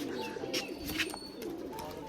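A white male pigeon cooing in soft, rolling low murmurs, close by, with a few brief higher chirps and flutters from other pigeons around it.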